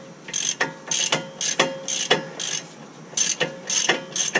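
A hand ratchet works lug nuts off the wheel of a GMC Acadia, loud close rhythmic clicking in quick bursts of strokes with short pauses between them.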